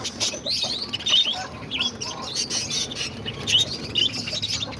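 Many pet birds, including cockatiels, budgies and lovebirds, chirping and tweeting in quick, overlapping calls, with occasional squawks and fluttering, fairly close and continuous.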